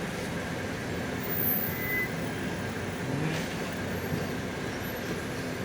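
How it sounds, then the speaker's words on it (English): Heavy road traffic in Kinshasa, where vehicles sit stuck in a long jam, makes a low, continuous rumble of engines with faint hiss and distant passing noise. It is steady and moderately loud with no voices. "So stuck in 2-hour traffic in Kinshasa"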